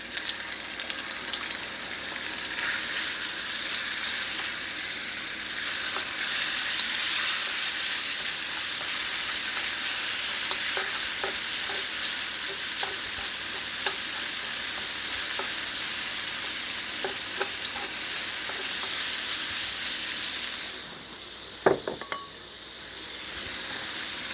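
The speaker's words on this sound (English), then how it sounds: "Now I'm going to add the meat." Beef sizzling loudly in an oiled pan, a continuous dense frying hiss with light scattered taps and scrapes of stirring, ending with a sharper clink near the close.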